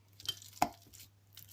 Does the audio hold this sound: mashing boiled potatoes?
yes